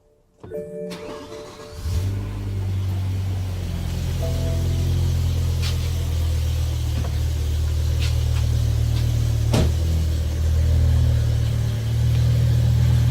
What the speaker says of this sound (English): Alright, so now you get the sound of the exhaust